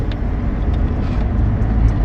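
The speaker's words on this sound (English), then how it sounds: "We're driving down to Observatory Beach." Car driving along a coastal road in Western Australia toward a beach, a steady low engine and road rumble heard from inside the vehicle, loud and continuous.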